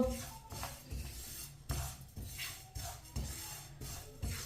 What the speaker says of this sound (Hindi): इसे भी इसी तरह चम्मच चलाते हुए भुने। हल्का सा ब्राउन करना तिल को।